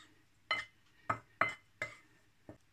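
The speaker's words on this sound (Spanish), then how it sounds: "Removemos bien" A Cajun spice mixture for chicken stirred in a bowl, five distinct clinking taps of a utensil against the side at irregular intervals, close and clear over near silence.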